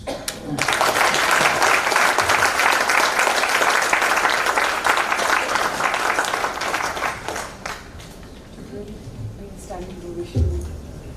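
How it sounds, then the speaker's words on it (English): Conference audience at the Brainline Conclave 2025 in Vashi breaking into sustained, dense applause and a standing ovation, loud and steady for several seconds before tapering off as a voice speaks. "I think this deserves a standing ovation, everybody."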